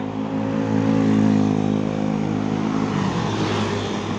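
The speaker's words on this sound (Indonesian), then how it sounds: "ada 4 bus Restu Panda Patas dari Ponorogo" Several buses roll past on a highway near a toll gate, their engines a steady, loud, continuous drone with a strong low hum throughout, no voices.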